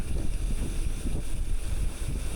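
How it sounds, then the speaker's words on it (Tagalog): Wind rushes steadily in open country lined with trees, a low continuous buffeting roar that stays fairly quiet and uneven with no voices over it. "Sarap nung hangin."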